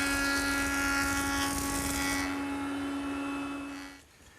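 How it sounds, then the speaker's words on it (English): A jointer planes the sawn edge of 2x6 lumber with a loud steady whine and cutting roar, then the sound drops away sharply near the end as the pass finishes. "cleaning up the sawn edge at the joiner"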